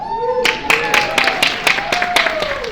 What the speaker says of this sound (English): the round of applause here goes to her team